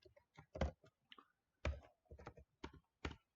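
Computer keyboard keys tapped in short, separate bursts during a coding lesson on building a route, with irregular spacing between clicks, close up and fairly quiet, no voice over them.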